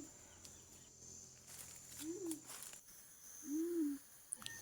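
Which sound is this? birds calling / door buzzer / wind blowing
birds calling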